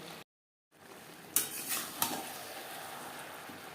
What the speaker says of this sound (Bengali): বাঁধাকপির সাথে টমেটো মটরশুঁটি বেশ ভালো করে মিক্সড করে দেব